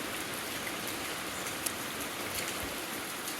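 Heavy rain pours down steadily, an even, dense hiss of drops hitting surfaces with occasional slightly louder splats, continuous and without voices.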